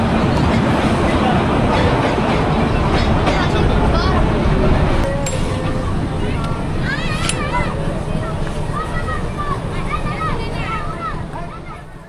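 Narayanganj commuter train rolling along the rails past Shyampur station, a dense continuous rumble and rattle heard from on board, with chatter and a voice in the background and squealing tones later as the noise gradually eases.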